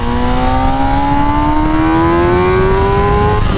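A 2021 MV Agusta Rush motorcycle engine accelerating hard, a loud close steady whine whose pitch climbs smoothly as the revs rise, heard alone without talk.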